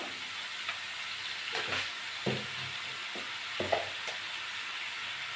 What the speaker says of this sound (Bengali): এটা নেড়ে চেড়ে একটু ভালো করে ভেজে নেব